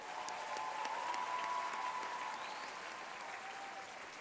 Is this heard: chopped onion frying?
no